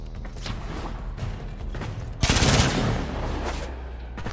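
Rapid gunfire from weapons in the video game Warframe, a dense continuous volley that swells louder partway through over steady game background noise.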